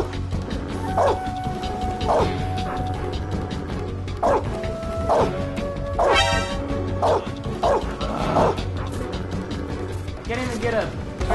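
Several guard dogs bark, yip and whimper in the stealth video game Metal Gear Solid 3: Snake Eater, with repeated bursts over game sounds and a person talking throughout.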